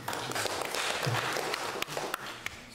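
An audience at a local government visit to the Tooro kingdom claps, making fairly faint, diffuse applause with a few sharper individual claps and some low background murmur.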